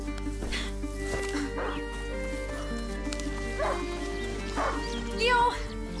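A hunting dog barks in short, scattered yips over steady game ambience and soft musical tones in the medieval countryside of A Plague Tale: Innocence, fairly close but not loud.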